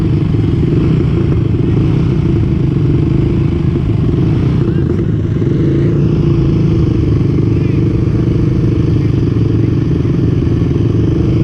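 A Honda 450R ATV engine, 2019 edition, at a dusty night drag racing event, a loud continuous motor roar that holds steady throughout, with voices faintly mixed in.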